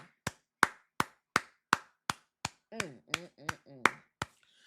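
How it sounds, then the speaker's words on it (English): One person claps about a dozen times in a steady, close rhythm during a casual talk show, with short vocal sounds mixed in between the later claps. "Give him a round of applause."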